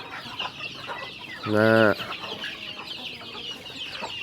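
Chickens being fed in a backyard coop give a loud clucking call near the middle, surrounded by soft background clucks and someone talking over them.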